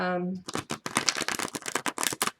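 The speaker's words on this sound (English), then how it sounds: "as you can see, it's just very easy to shuffle" A small, typical-size Nefertari's Tarot deck being shuffled by hand, giving a run of quick, close papery riffles and flicks after a brief tone at the start.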